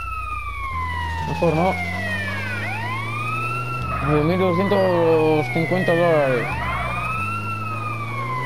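An ambulance siren in the video game GTA San Andreas wails in repeating rising and falling sweeps over a low vehicle engine hum, with a voice speaking briefly partway through.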